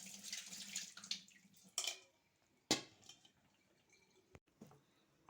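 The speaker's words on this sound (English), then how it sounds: "Then strain the water." Water from cooked noodles being strained in a kitchen sink, a splashing, running pour at the start followed by a few sharp clanks of a pot or colander and quieter trickles.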